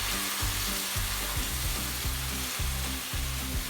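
Canned fire-roasted diced tomatoes hit a hot pan and sizzle hard, a dense close hiss broken by repeated rhythmic stirring strokes, with no one talking.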